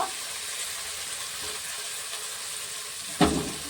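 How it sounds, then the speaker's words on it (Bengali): Chicken frying in a pan for Chicken Patiala with chopped chilli, a steady close sizzle of oil and a brief scraping stir near the end, with no talking. "ভালো করে এটা নেড়ে নেবো"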